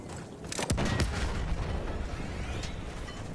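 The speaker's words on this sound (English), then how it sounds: "We're gonna blow this truck once we're near the other truck." A truck blows up in the video game Battlefield 1, Ottoman desert setting: a sharp close blast followed by a sustained rumbling roar and debris crackle that slowly fades, with no talking.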